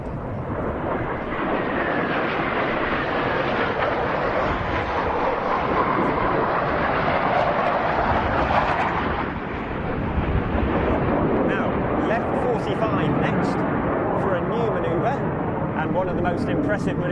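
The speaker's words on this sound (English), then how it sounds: "a 2 versus 2 opposition pass, which they call the scissor cross" Military jets roar overhead in a loud, sustained pass during a 2 versus 2 opposition manoeuvre known as the scissor cross at an air show, the jet noise swelling and fading over several seconds and then returning strongly.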